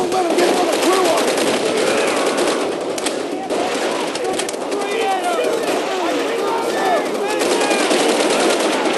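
Machine gun fire in Call of Duty: World at War on PC, from the Semper Fi mission, rattles in loud rapid bursts that barely let up, with shouting soldiers' voices mixed into the din.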